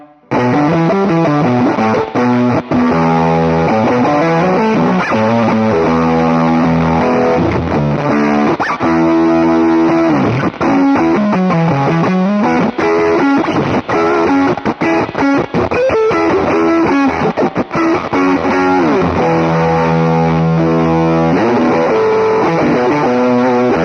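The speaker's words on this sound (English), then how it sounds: "This is how the fuzz sounds." Guitar run through a fuzz pedal on a pedalboard, a thick, saturated distorted tone with sustained chords and riffs playing loud and continuous, with no talking.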